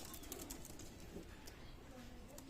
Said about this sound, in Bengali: রানিং পেয়ার কবুতর